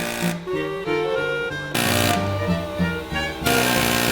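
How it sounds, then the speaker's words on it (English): An air chisel hammers at a tight viscous fan on a vehicle, a loud, rapid pneumatic rattle running in close bursts with brief pauses between them. "This thing is so tight, we're having to go for an air chisel."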